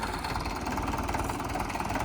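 A tractor engine runs steadily while levelling freshly dumped soil in a village vegetable garden, a continuous close rumbling drone with no pauses.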